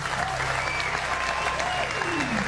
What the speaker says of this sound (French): est-ce que déjà on peut applaudir très fort, s'il vous plaît, pour Kedjevara?